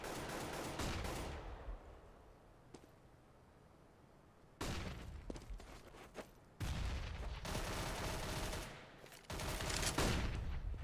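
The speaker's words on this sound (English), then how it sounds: "Plethora of flashbangs going off up towards shot." Counter-Strike match sounds: bursts of rifle gunfire and flashbang pops come in loud clusters separated by quieter gaps, dense and rapid with no voices.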